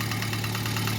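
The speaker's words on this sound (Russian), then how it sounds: "Так, в общем, запустил я двигатель." A car engine idles steadily right after being started, with the alternator belt not yet connected. The low, even running hum continues at close range with no talking.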